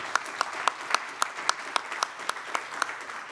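Applause from an audience at a gala evening for customer-experience directors, steady and moderately near, with dense clapping throughout and a few sharper individual claps standing out at regular intervals, no voices.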